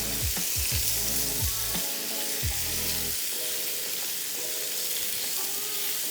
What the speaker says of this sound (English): So just a quick sear on both sides just like this, okay. So it gives a nice sear, this paneer